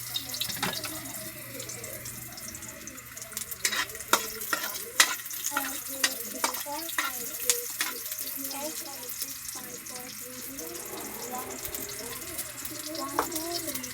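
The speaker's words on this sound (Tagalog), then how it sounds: "Salang na natin yung sibuyas sa bawang." Onion and garlic sizzle and fry in a pan, with a steady hiss broken by frequent scraping stirs and occasional clinks, close up and fairly loud.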